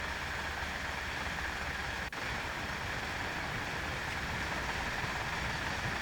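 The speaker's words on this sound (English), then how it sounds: "Lovely sound of the train here on this one." A train runs steadily on the rails at reduced speed, a continuous broad rumble and rushing noise with no talk, plus one brief sharp click near the middle.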